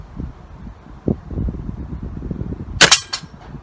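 A single sharp rifle shot fired at a target outdoors, with a wood backstop behind it, cracks out loud and close near the end against a quiet background of wind and light rustling.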